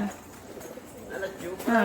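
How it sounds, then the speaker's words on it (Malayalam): A pigeon gives a soft, low coo, brief and close, with people's voices murmuring around it. "പ്രാവ് കുറുകുന്നുണ്ട്"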